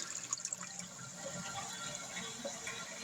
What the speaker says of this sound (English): we've got a nice, big, powerful flush